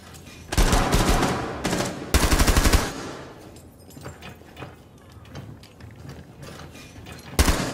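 Mechanical clacks and rattling bursts from a magazine reload in the tactical shooter Rainbow Six Siege, loud and close, with a dense metallic stretch early on and scattered clicks and a final sharp burst later.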